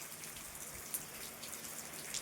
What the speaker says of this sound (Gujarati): અત્યારે પાછો વરસાદ ચાલુ થઈ ગયો છે આમ નેવા ચાલુ થઈ ગયા